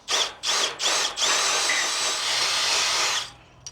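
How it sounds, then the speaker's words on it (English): A power drill whirs in three short bursts, drilling bolt holes in a jon boat trailer, then runs steadily for about two seconds before winding down, loud and close. "We're just going to drill new holes through here."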